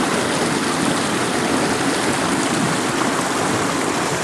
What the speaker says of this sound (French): Voilà la fameuse bouche d'évacuation qui est un véritable torrent.